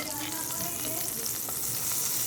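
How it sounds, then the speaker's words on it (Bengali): A little turmeric powder in hot oil in a kadai, crackling and sizzling steadily and fairly close, with a faint clatter now and then and no voices. "আমি কড়াইয়ে তেলটা বসিয়ে দিয়েছি। তেলটার মধ্যে আমি দিয়েছি সামান্য হলুদ গুঁড়ো"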